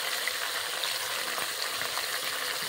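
Ginger, garlic and onion juice, squeezed from a stone-ground paste, sizzles steadily in a hot wok while rohu fish curry is being cooked, a constant broadband hiss with no talk.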